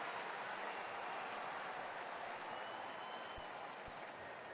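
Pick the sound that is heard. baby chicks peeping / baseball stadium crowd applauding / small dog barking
baseball stadium crowd applauding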